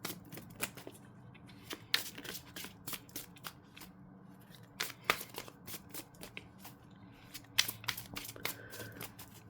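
Tarot cards being shuffled, soft papery riffles and flicks in irregular bursts with occasional sharper snaps, close and quiet, no talking.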